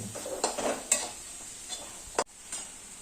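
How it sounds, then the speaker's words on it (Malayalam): Chili powder frying in a pan for a chicken roast, with a soft sizzle under intermittent spoon scrapes and clinks against the metal and one sharp knock near the end. "ഇത് നല്ലോണം മൂക്കണ വരെ ഇളക്കിക്കൊണ്ടിരിക്കണം"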